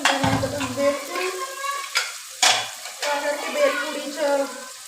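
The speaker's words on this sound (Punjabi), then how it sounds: "ਆ ਦੇਖੋ ਜੀ ਆਪਾਂ ਤੜਕਾ ਭੁੰਨਣਾ" A tadka tempering of spices fries in hot oil in a home kitchen, a loud, close crackling sizzle with stirring scrapes and a few sharp clinks, while a voice is heard partly over it.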